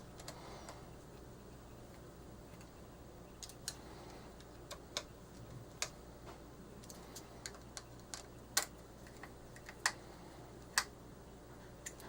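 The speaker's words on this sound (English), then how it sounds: "Now I'm just going to go ahead and use a screwdriver just to tighten them" A screwdriver tightens nuts on a bill validator latch kit. The sound is quiet and close: irregular small clicks and ticks of metal on metal, scattered over several seconds against faint room hum.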